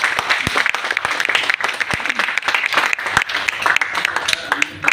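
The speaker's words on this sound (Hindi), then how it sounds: "ताली बजाइए आप लोग।" Applause from a seated audience at an Asclepius Wellness (AWPL) training session, a dense, loud, continuous patter of many hands clapping that lasts several seconds with no talk over it.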